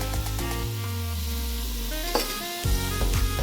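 Chopped potato, carrot and beans with salt sizzle and hiss in a hot pan while being stirred, with a steady close frying crackle and occasional scrape of a utensil; no talking.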